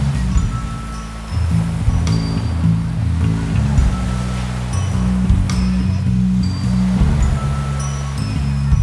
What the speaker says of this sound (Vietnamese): Bãi biển rất đẹp, khách rất đông.